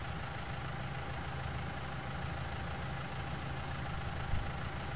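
A tractor engine idles in the farming video game Farming Simulator 19, a steady, unchanging low rumble with a dense mechanical drone and no talking.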